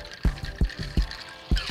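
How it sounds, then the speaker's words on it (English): A cocktail is poured into a glass at a home bar, with soft liquid trickling under a few sharp clinks and knocks that land at irregular intervals close to the mic. "And you just pour."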